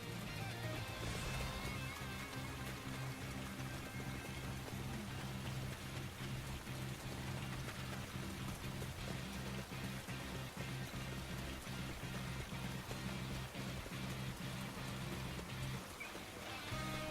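Rain falls steadily in Dynasty Warriors Origins, a dense continuous wash of drops heard under low game music with no voices.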